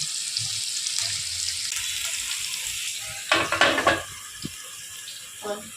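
Spiced chicken pieces fry in a pan and are slowly turned over, giving a soft continuous sizzle, then a brief louder burst of scraping and spattering near the end, followed by a short crackle.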